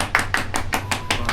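Hand claps at a birthday party celebration, seven sharp claps in a steady rhythm, moderately loud and close, with no talking.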